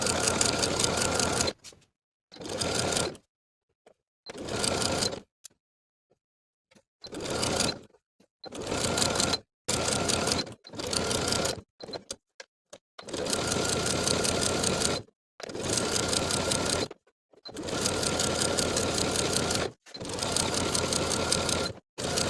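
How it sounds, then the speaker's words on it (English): A sewing machine edge stitches along the bottom raw edge of a tie-front cardigan hem, running in many short start-stop bursts of rapid needle whirring with brief silent gaps between them, close and clear, no voices. "we're also going to be edge stitching along the bottom raw edge to complete the hem"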